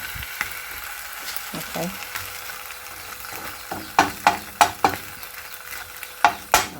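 An egg fries in a pan, with a steady sizzle under a spatula scraping and working beneath it before the flip, then a run of sharp clacks and taps against the pan, and a voice speaks briefly.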